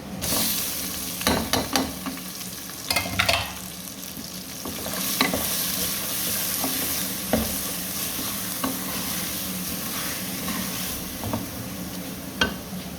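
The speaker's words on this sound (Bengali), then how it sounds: "একটু ভাজা ভাজা হোক পেঁয়াজ ভাজা হয়ে গেছে" Onions with cardamom and black pepper frying in a pan give a steady close sizzle, broken by intermittent scrapes and clinks of stirring, with no voices.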